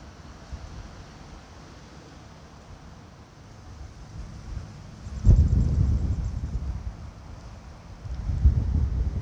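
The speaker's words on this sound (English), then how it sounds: "Ooh, it's windy." Gusty wind buffets the microphone, a low rumble that swells louder midway and again near the end, with no voices.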